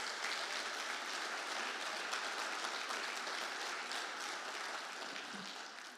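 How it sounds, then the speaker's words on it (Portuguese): A church congregation claps steadily for the whole six seconds, a dense, even wash of applause with no pauses. "Você pode aplaudir Jesus aí?"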